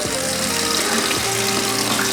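Hot water runs steadily from a kitchen tap into a sink, a continuous loud splashing rush with no talk over it.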